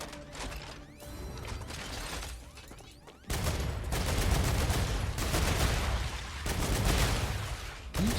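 Gunfire in StarRupture, sci-fi game weapons firing in dense rapid bursts with mechanical clatter, quieter at first and then loud and sustained, broken by a short pause.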